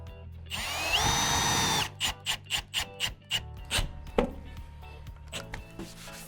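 A power screwdriver drives screws into drywall on a stud: a rising motor whine for about a second, then a rapid run of short buzzing pulses and a few clicks and thumps, close and loud.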